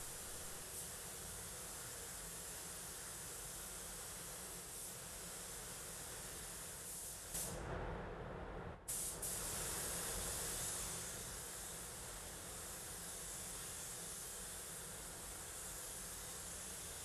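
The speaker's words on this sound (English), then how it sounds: "I'm going to try and spray half the hood, half the roof, and then move on to the other side." A spray gun lays candy paint across the hood and roof of a 1968 Camaro, producing a loud, continuous broadband hiss that shifts briefly midway, then resumes steadily, with no talking.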